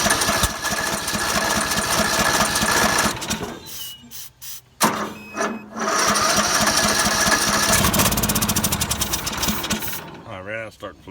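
A free Troy-Bilt riding mower's engine runs loud and close with a rough, chugging idle that sputters and nearly dies midway before catching again and running unevenly.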